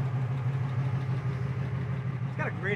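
A 1963 Chevy Nova SS with dual exhaust idles close by, giving a steady, even low rumble throughout, with a brief voice rising over it near the end.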